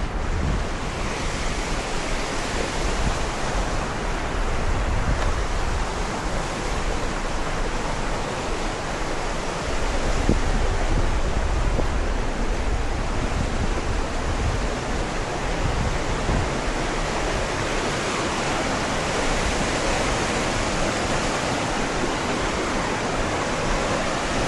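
A river in Switzerland rushes below a bridge, a loud, steady, broadband roar of flowing water that holds constant throughout with no voices over it.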